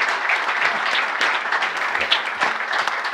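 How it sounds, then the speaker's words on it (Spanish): Lively applause from an audience at an economics training event in 2024, a dense, close burst of clapping lasting a few seconds, mixed with scattered cheers and shouting voices. "Pueden aplaudir si quieren."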